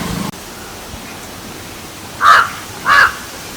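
A crow caws twice, two distinct loud calls about a second apart, heard over a steady hiss of background noise after a brief opening sound.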